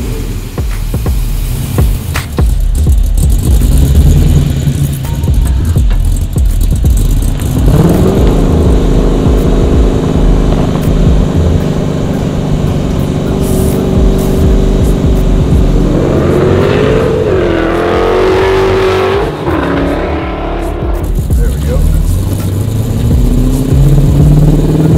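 A supercharged 1969 Camaro pulls away under loud, continuous engine roar that rises and falls with revving and gear changes, close and dominant throughout with no talk.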